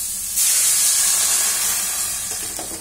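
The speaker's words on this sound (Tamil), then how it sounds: "இது கூட நம்ம இப்போ 1 கப் தண்ணி சேர்க்கலாம்." A sudden loud hiss and steam as a cup of water hits a hot pan of frying beans, settling into a softer sizzle that slowly fades.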